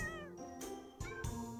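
Cats meow in a video game shop, a few short, clear meows in quick succession over soft background game music.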